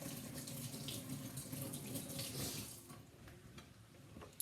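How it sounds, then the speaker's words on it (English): Water from a kitchen tap runs steadily as hands are rinsed beneath it, a continuous close splashing rush that thins slightly toward the end. "Let me just wash off my hands."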